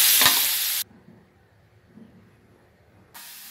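Fried pangasius fish with celery stir-fried in a hot pan gives a loud burst of sizzling and stirring hiss, then drops to quiet clatter before the sizzle returns at the end.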